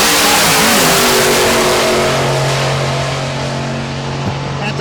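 A turbocharged drag racing car at Tulsa Raceway Park launches down the strip during Rocky Mountain Race Week, its engine a loud, sustained droning roar with a rising whine that slowly fades as it pulls away.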